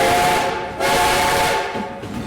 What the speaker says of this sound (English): can you give me 3 tunes on your whistle